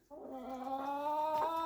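Chickens in a barn, including young meat birds just starting to lay, make a steady run of close, continuous clucking and tonal chatter throughout.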